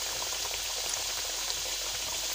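Three chicken samosas frying in hot oil in a small kadai over a low flame, a steady dense crackle and sizzle of bubbling oil, close and continuous with no talk.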